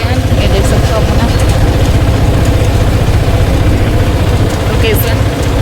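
An auto rickshaw engine drones steadily during a ride, a loud constant rattle with road rumble underneath and faint voices mixed into the noise.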